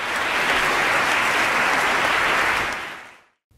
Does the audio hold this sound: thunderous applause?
yes